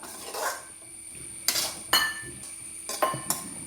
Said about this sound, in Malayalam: നമുക്കൊന്ന് ഇളക്കി ഒന്നുകൂടെ ഒന്ന് മൂടി വെക്കാം